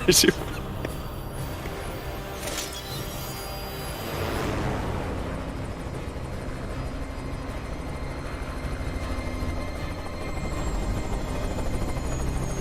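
A helicopter in a Batman movie scene chops steadily under the audio, with a bright burst at the start, while people talk over it throughout.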